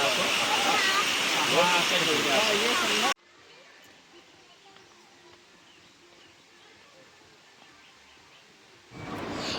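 Roaring water from Elephant Falls in Shillong, loud and close for the first few seconds, then dropping to a faint, distant hiss with occasional birdsong, and a rush rising again near the end.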